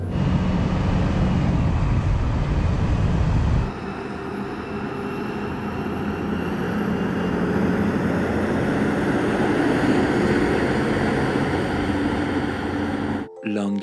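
Mercedes Actros and Scania R500 44-ton trucks in a drag race, heard from inside a cab as a steady loud engine drone and road roar, with an abrupt shift in tone partway through and a brief cut near the end.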